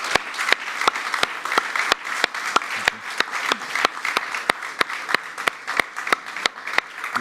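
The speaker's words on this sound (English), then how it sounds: "Let's give them a great round of applause before we finish" An audience at an evening talk on rethinking humans and machines at ETH Zürich applauds steadily, a dense wash of many hands clapping close and loud for about seven seconds with no voices over it.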